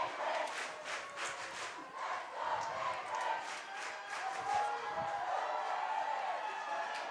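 A crowd at a girls' lacrosse state championship chants in rhythmic unison from a distance outdoors, the chant rising and falling over several repetitions.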